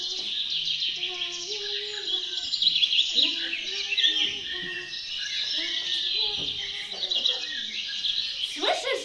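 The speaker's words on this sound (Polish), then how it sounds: "Śpiewa drozd." A thrush sings in a fairy-tale woodland scene, its bright whistled phrases repeating steadily over a backdrop of insect-like buzzing, with voices speaking faintly underneath.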